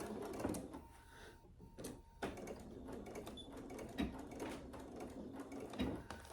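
A sewing machine chain-stitching a Lemonza clutch runs steadily up close in one continuous stretch, with faint stops and shifts along the way and no talking.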